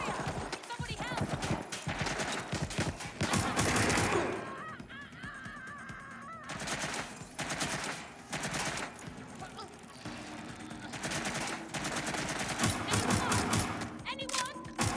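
Rapid bursts of gunfire fill a firefight in the game Watch Dogs: Legion, loud and dense throughout, with shouted voices over the shots.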